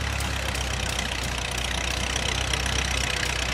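An antique tractor engine idles at an Ontario farm show, a steady low knocking chug that runs unbroken and fairly close, mixed with outdoor background noise.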